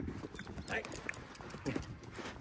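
Horse hooves clip-clop at close range in quick, uneven steps while someone talks over them.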